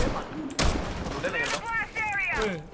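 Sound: gunfire in video game Rainbow Six Siege

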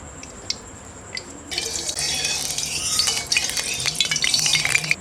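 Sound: pouring oil into a pan to fry potatoes

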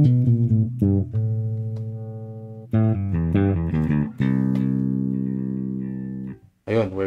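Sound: SX five-string jazz bass played while testing tone knob

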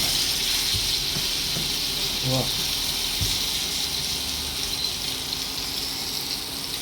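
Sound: pomfret fish frying in pan

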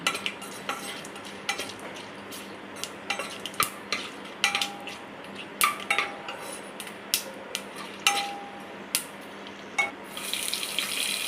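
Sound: cinnamon, cloves and cardamom stir-fried with a ladle

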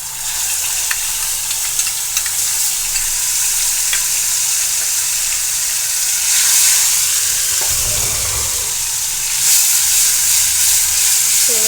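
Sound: ginger garlic coriander paste and turmeric sautéing in oil

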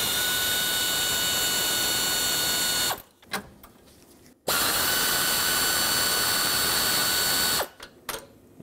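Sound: unbolting 8mm bolts holding cooler to truck radiator

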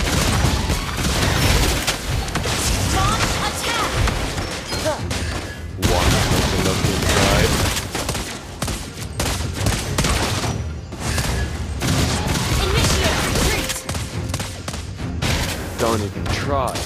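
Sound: gunfire from Granger in video game Mobile Legends

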